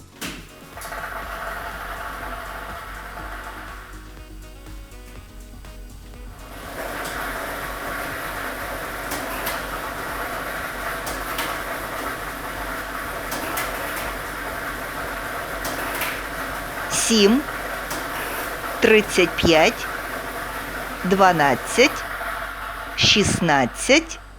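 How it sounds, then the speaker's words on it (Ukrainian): A lottery ball drawing machine starts up and runs with a steady whooshing roar, joined later by scattered clacks and rattles, continuous and fairly close. "І ми вмикаємо лототрон."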